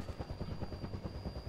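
Helicopter in GTA San Andreas, rapid regular rotor thumps over a low engine drone and a thin steady whine, close and loud throughout.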